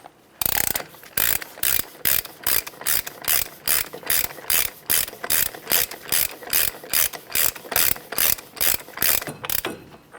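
A hand ratchet clicks in a steady rapid rhythm, loud and close, as it tightens the front axle nut on a 2012-2015 Honda Civic during a wheel bearing replacement. The clicking comes in bursts of one stroke after another, with no voices.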